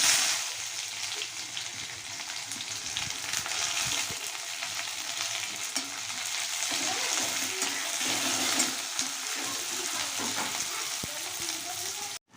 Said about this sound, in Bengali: পেঁয়াজটা লাল করে ভাজা হয়ে গেছে।